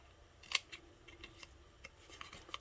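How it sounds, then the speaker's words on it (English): Paper snipped with scissors along a diagonal score line while making a lip balm gift box, heard as a few quiet, separate crisp snips with small rustles between them and no talking. "I'm going to get my scissors, and there's a score line that's diagonal. I'm just going to cut up to that next score line."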